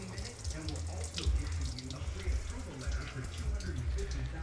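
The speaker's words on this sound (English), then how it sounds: "That's all of our water coming through the block drain." Coolant flush water pours steadily out of an engine block drain during a cooling system flush, a continuous close running-water splash with low rumbling underneath, faint voice murmurs in the background.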